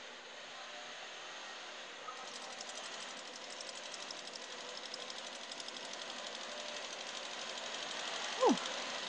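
A sewing machine stitches a rag quilt with a fast, steady mechanical whirr and rapid needle ticking that picks up speed after a slow start, running close and continuous with no talk.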